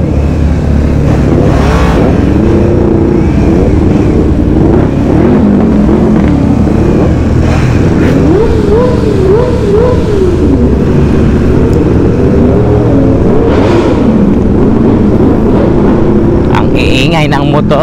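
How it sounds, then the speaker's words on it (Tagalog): Motorcycle engine noise while riding on the SCTEX expressway on a Subic ride, a loud steady drone with wind rush and rising and falling engine pitch, continuous throughout. "Ingay ng motor."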